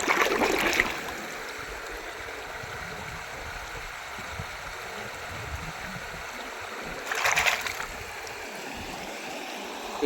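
Steady rushing flow of river water, constant and moderately loud, with a brief louder splashing burst near the start and another toward the end.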